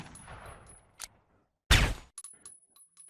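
Two sharp gunshot cracks from an unsilenced weapon in a Unity VR Interaction Framework demo, the second louder and fuller, each followed by faint mechanical clicks and rattles.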